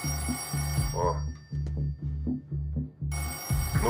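A telephone rings in a mystical drama series, a low, muffled bell pulsing in a steady rhythm of repeated short rings that fill the clip.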